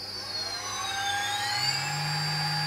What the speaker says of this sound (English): So you could hear the pitch of the spindle changing